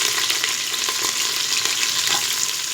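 Onions, carrot, potato, curry leaves, green chillies and tomato fry for a veg meal maker biryani, a dense, continuous sizzle with faint stirring scrapes throughout.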